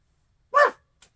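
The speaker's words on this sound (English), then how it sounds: "the dog Exactly. barks in the background" A dog gives a single sharp bark in the background, loud and brief, followed by a faint short yip, with silence around it.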